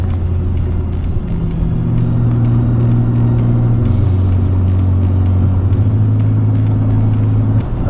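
Nissan GTR sports car cruising on a highway, a steady loud engine drone with shifting low tones and constant road roar throughout.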